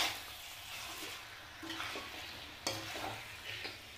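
Tomatoes being stirred into a bathua and potato curry in a pan, with soft scraping and stirring strokes over a low sizzle at moderate closeness, several irregular strokes and no talking.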